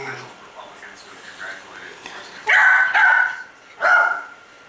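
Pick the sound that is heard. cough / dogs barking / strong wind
dogs barking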